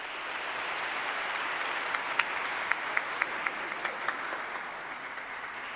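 A chapel audience claps for several seconds, a dense, even wash of applause with a few sharper individual claps standing out near the end.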